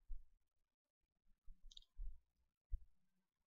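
A computer mouse double-clicks on a desktop software icon, giving a few soft, close clicks spread over a quiet few seconds.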